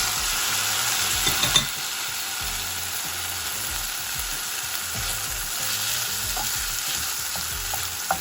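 Tomatoes go into a pan of frying garlic and ginger for baingan bharta, producing a loud, steady sizzle with a brief clatter as they drop in.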